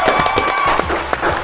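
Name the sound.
applause welcoming a guest on a show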